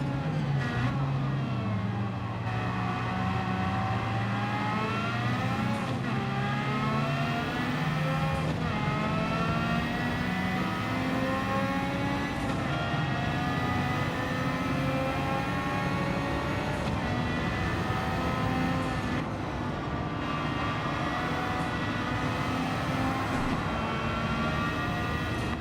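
A 209 bhp car in a Gran Turismo 7 time trial screams along under constant throttle. Its engine note climbs again and again, broken by quick gear changes, loud and unbroken, with no talking over it.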